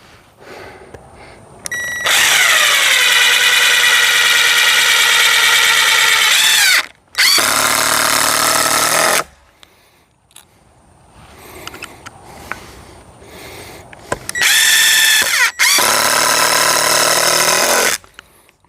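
A power drill drives screws into solar panel mounts in loud, sustained bursts that ramp up and slow down, separated by quieter pauses with faint clatter.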